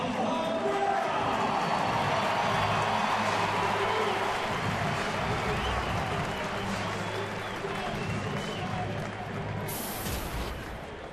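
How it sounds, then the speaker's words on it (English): Stadium crowd applauding steadily as Miguel Cabrera comes up to bat in a Detroit baseball game against Oakland, a broad sustained wash of clapping and crowd noise that eases slightly near the end. "That'll bring up Miguel Cabrera, who should get a nice round of applause."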